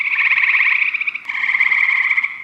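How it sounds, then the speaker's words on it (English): An eastern gray tree frog gives a loud, close, steady trill in two long pulsing bursts, with a quiet background behind it. "the eastern gray tree frogs"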